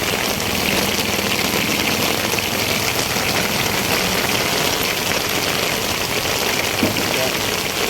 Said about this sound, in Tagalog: Nabutan kami ng ulan dito guys